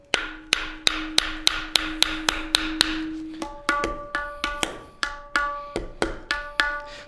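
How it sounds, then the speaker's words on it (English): A small hammer taps the rim of a tabla drum to tune it, making a steady series of sharp, ringing strikes roughly twice a second. The pitch of the ringing tone steps up partway through. The tapping is heard alone, close and clear. "so by hitting down, what I tend to do is hold the hammer kind of very close to the end here"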